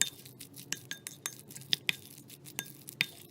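Guacamole of avocado with cumin powder, salt and coriander leaves being mixed in a bowl, a spoon clinking against the bowl in irregular light taps, close and moderately soft, with no voices.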